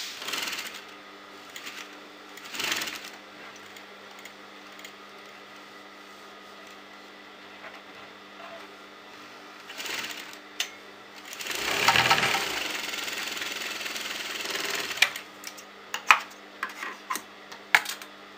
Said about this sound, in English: just sew till here and stop the needle and lift your foot up and bring your needle over here and then sew down